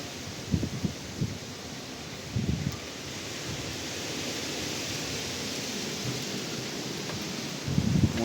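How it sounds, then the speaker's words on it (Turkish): Steady roar of wind and rain with a few low rumbling bursts of thunder, loud and continuous throughout. "Fırtına da çıktı. O tozu dumana kattılar."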